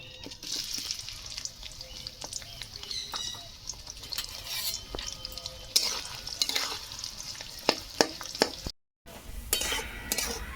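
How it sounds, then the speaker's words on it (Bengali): Three dried red chilies and sliced onions frying in hot oil for a restaurant-style chicken do pyaza, a soft continuous sizzle with scattered utensil clinks and stirring scrapes, heard close and alone. "তেল গরম হয়ে গেছে তিনটা শুকনো লঙ্কা দিয়ে দিচ্ছি তার সাথে পেঁয়াজগুলো দিয়ে দেবো"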